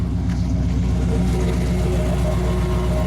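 A deep, steady V8 rumble from a 1956 Chevrolet 150 with a 350 engine and Flowmaster dual exhaust, throaty exhaust burble running continuously and close by without pause.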